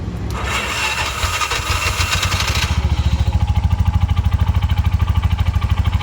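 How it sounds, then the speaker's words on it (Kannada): A Bajaj BS6 auto rickshaw with starting trouble is cranked: a few seconds of loud whirring and clattering, then the engine catches into a fast, even, close chugging idle. "ಇಲ್ಲಿಂದ ಸ್ಟಾರ್ಟ್ ಆಗ್ತಾ ಇಲ್ಲ ಗಾಡಿ"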